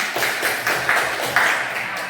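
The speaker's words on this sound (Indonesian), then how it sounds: "Ya, bagus, tepuk tangan." Elementary schoolchildren in a classroom applaud together, producing a dense, continuous patter of hand claps with a few louder peaks, close and fairly loud.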